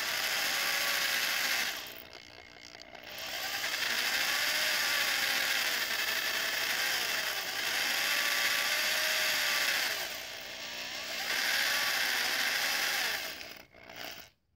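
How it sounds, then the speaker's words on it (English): A small bit drills a pilot hole into a piano hammer for a hammered dulcimer, giving a close, grinding whir with rising and falling pitch and brief pauses between bursts. "You might have to get your little pilot hole going with a smaller bit, but you hold it as straight as possible."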